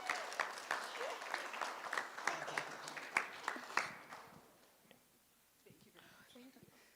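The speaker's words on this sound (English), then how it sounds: "You have to clap." Graduation audience for a guide dog class applauding loudly for about four seconds, with sharp claps through a steady crowd wash that then fades to a quiet room with scattered faint sounds.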